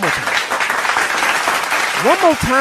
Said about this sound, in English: Can I just give the family a round of applause?